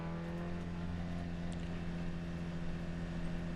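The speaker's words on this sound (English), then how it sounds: "A chance to go to actually listen to the engine note of this car for Stefan Tanner then." A GT race car's engine drones at a steady, unchanging pitch, as if stuck in gear, heard as a continuous mid-distance hum with no other sounds.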